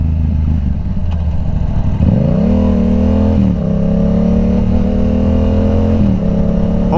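A fully modded and tuned Yamaha R7 sportbike engine while riding, loud and close, with revs climbing sharply and holding a steady high drone through a couple of gear changes and throttle dips.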